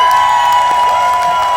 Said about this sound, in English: another big round of applause for our law enforcement